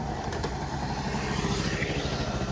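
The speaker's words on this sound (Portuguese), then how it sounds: "É a gurizada aqui andando de moto" Small, low-powered motorcycles ridden by 14-year-old teenagers through an Italian town, a steady mid-pitched engine drone passing at moderate distance, continuous and without speech over it.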